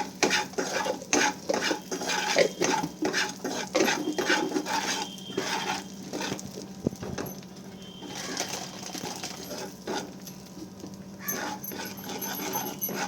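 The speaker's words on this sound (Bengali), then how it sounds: "তারপর আমি সব কিছু ভালো করে মিক্স করে নেব" Paneer butter masala ingredients are stirred in a pan with a utensil, producing rhythmic scraping and clinking strokes over a soft sizzle, continuous and close, with no talking.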